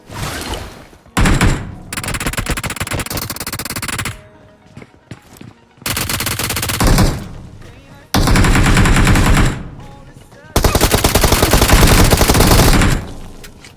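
Loud automatic gunfire in the mobile shooter BGMI comes in several long, rapid bursts separated by short gaps, sounding close and alone without any talk.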